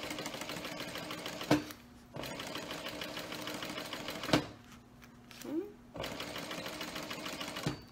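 A sewing machine stitches continuously around a mini project in rapid steady bursts, pausing briefly twice between runs, with a faint voice under it in the pauses.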